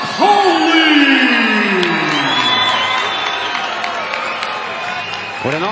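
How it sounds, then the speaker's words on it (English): Arena crowd at a live boxing event cheering and whooping for boxer Gary Cully, loud and roaring with rising shouts and a sustained roar beneath a ring announcer's voice that tails off. "What a nice loud cheer in this arena for Gary Cully."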